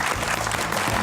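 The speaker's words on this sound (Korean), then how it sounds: "큰 박수 감사합니다" A brief stretch of steady applause from a lecture audience, dense clapping filling the room.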